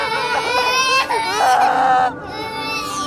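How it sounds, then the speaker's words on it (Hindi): A child wails loudly in a continuous, harmonic cry with rising and falling pitch, breaking off briefly near the end before resuming. "औरत चीखी और बच्चा जोर जोर से रोने लगा।"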